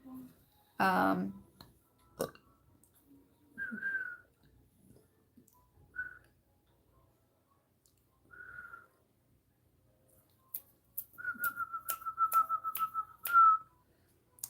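A person whistles short tuneful phrases at a distance, a few isolated notes followed by a longer quick trill near the end, with scattered clicks, taps and a faint voice between them in a quiet room.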